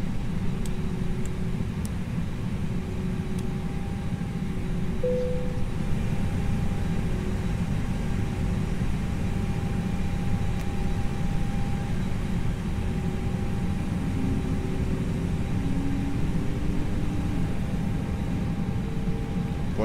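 An Airbus A321 in the X-Plane flight simulator gives off a steady, droning engine roar with a faint whine on top, holding at an even level for the whole stretch.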